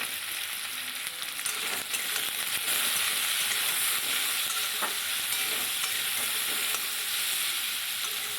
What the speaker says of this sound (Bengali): সবজিটা একটু নেড়ে নেব